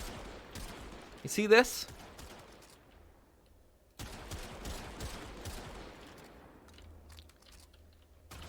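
Gunfire in Warframe from a Kuva Drakgoon and a Rubico Prime sniper rifle: a cluster of sharp shots near the start, then further scattered bursts and crunchy impacts, with someone talking over part of it.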